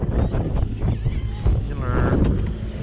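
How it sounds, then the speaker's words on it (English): Strong wind buffets the microphone at Seawolf Park, Galveston, with a constant roaring rumble, and faint voices can be heard underneath it. "Conditions are windy"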